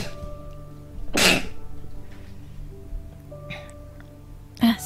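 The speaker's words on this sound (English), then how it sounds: "Oh, gonna sneeze." A single sharp sneeze bursts out over quiet background noise, followed by a couple of softer breathy sounds.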